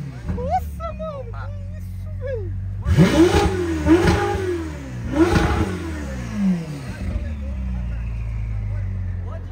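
A roughly 700-horsepower Ferrari sports car revving and accelerating hard in a few loud, rising engine bursts on a late-night street, with people talking over it.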